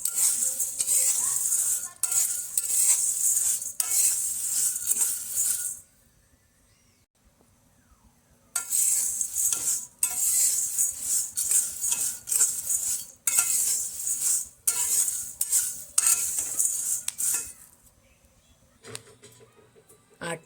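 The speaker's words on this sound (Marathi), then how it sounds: "आता हे सर्व मसाले 8 ते 9 मिनटं चांगले भाजून घेऊ आपण. हे कोरडेच भाजायचे आहे" Whole spices dry-roasted without oil in a pan for homemade Agri Koli masala. Loud bursts of rattling and scraping come as the spices are tossed and stirred up close, broken by a few seconds of near silence.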